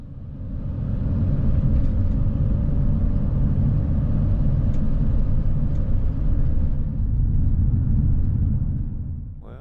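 Road traffic on Highway 93 entering Whitefish, Montana, heard as a steady, moderately loud low rumble of tires and engines that swells and eases slightly, with a faint sharper sound at the very end and no voices.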